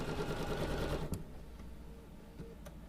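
A sewing machine stitching a quilt block seam runs in a fast, even mechanical patter for about a second, then stops, leaving a quiet room with a few faint clicks and taps.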